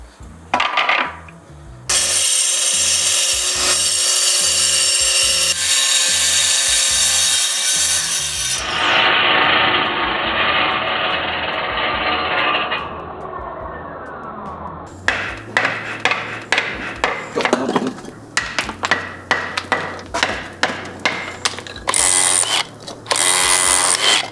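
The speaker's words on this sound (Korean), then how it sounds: "콘크리트용 원형 톱과 해머 드릴을 사용해서 작업을 열심히 했는데 깨져버렸습니다." A concrete circular saw grinds loudly through concrete block in long continuous cuts, followed by a hammer drill's rapid pounding bursts, all close and harsh with no talking.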